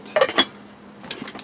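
A metal pot lid clanks and clinks against cookware during camp cooking outdoors on a back step, a few sharp knocks followed by lighter rattles, up close with no talk.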